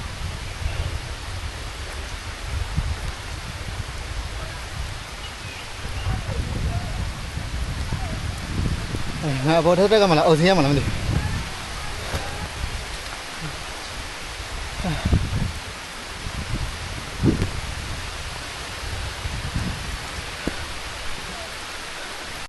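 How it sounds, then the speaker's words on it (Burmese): Rain falls outdoors along a rural red-dirt road, a steady broad hiss with a few louder patches, while someone talks over it throughout. "ဟဲ့မိုးရွာလာရောက်"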